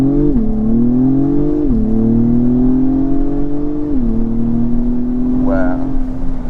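A 2022 Acura TLX Type S with its 10-speed automatic accelerates hard from the cabin, engine note rising steadily with two or three clear gear-shift drops in pitch, loud and continuous.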